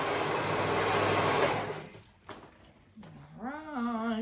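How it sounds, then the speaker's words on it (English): A serger's steady mechanical whir runs loud for about two seconds, then cuts off, followed by faint clicks and a rising, warbling electronic tone. "So we're gonna go ahead and sew that together. I am serging"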